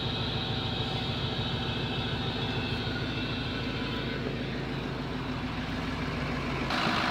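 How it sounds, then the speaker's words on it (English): A Ford 6.0-liter diesel engine idles steadily after a cold start, a loud continuous rumble with a low pulsing clatter throughout, close by, with no talking. "Gotta love your 6-liter diesel."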